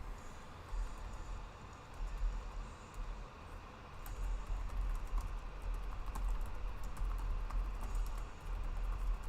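Rapid, irregular clicking of computer keyboard keys being typed on, steady and fairly close, over a low background hum with no voices.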